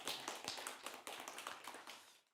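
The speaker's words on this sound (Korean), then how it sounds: "우리 안윤옥 권사님 더 건강하시라고 우리 격려의 박수 한번 하도록 하겠습니다" A church congregation gives a round of encouraging applause in a sanctuary, a dense patter of many hands clapping steadily for about two seconds before tapering off.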